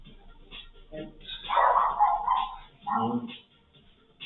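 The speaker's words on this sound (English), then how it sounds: "You can hear the dogs now." Guard dogs bark at someone walking past, sounding as a few muffled, mid-distance barks and yips in two short clusters.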